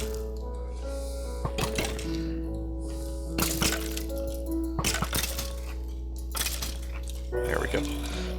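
Minecraft-style mobs shooting each other in a survival game, sharp cracking impacts in irregular bursts over a constant low background hum, with a voice talking between the shots.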